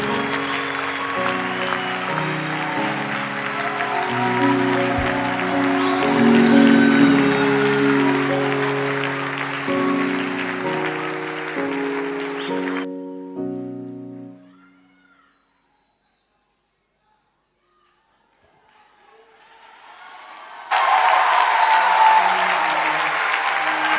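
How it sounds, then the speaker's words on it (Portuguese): A church congregation applauds in sustained clapping blended with music for several seconds, falls to near silence midway, then bursts into loud clapping again toward the end. "Eu quero pedir uma salva de palmas para o pastor Alex Silva."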